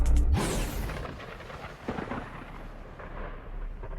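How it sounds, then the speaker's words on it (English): Deep thunder from an animated episode booms loudly at the start, then a long rumbling roll trails off and fades across the clip, with no voices. "The thunder."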